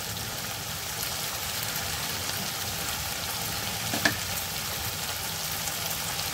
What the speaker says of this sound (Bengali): তো এটা এখন খুব ভালোভাবে আমি ভেজে নেব।